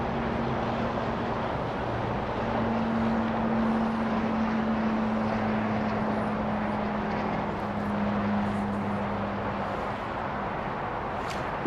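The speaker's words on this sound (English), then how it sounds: "Spirit Flight 1120 to Cancun in Airbus A321neo." A Spirit Airbus A321neo jet at DFW Airport before dawn produces a steady, distant roar with a faint sustained whine, holding an even level throughout with no voices.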